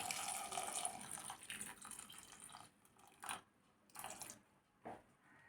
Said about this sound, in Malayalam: ഇനി തക്കാളി ഒന്ന് വെന്ത് കിട്ടുന്നതിനാവശ്യമായ വെള്ളം കൂടി ചേർത്ത് കൊടുക്കാം.